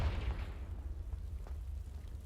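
A Confringo fire spell detonates in Hogwarts Legacy, a low rumbling blast that swells at the start and fades into a quieter boomy tail over two seconds.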